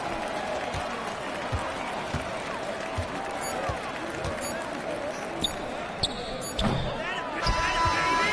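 Arena crowd noise in the basketball video game NBA 2K25 forms a dense, steady roar of applause and cheering, with periodic ball bounces and sneaker squeaks rising louder near the end.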